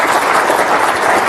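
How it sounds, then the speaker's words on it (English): Sustained audience applause at an evening book talk honoring the author, a dense steady wash of many hands clapping at close range, with no speech over it. "Let's give him a big round of applause."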